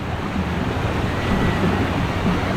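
A strong current on the Dupinga River in Gabaldon, Nueva Ecija, makes a loud, steady rushing roar, continuous and close, with no voices.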